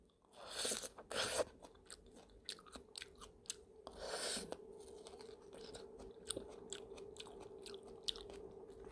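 Someone chewing and crunching a hard, firm peach, close and quiet, with several loud crisp bites early on followed by steady, softer chewing.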